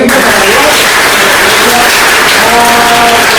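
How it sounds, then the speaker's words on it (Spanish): Audience applause for the Bible at a Catholic apologetics talk, a dense, steady wash of clapping filling the room throughout, loud and close with some voices mixed in. "Aplauso para la Biblia."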